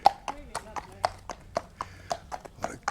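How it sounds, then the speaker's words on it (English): A horse walks on a road in the Dorset countryside, its hooves giving a steady, fairly close clip-clop of regular knocks while a person talks over it. "What a gorgeous coloured horse."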